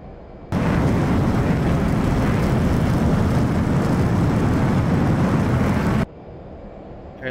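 F/A-18 Hornet jet engines throttling up for takeoff in the DCS flight simulator, a loud broadband roar that surges in abruptly, holds steady for several seconds, then cuts off sharply.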